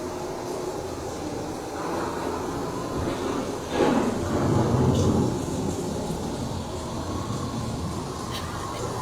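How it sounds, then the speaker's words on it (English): A thunderstorm sound effect on an EPCOT theme-park ride: a low, sustained rumble of thunder with a broad noisy wash like rain, swelling into a louder roll midway before settling back to a steady background. "The approaching storm may seem violent and destructive to us"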